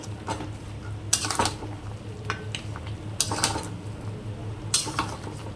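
Chicken being stir-fried in a pan with turmeric, coriander, cumin and chili powder for kadai chicken: a steady low sizzle under repeated loud metallic scrapes and clanks of a utensil against the pan, in irregular bursts.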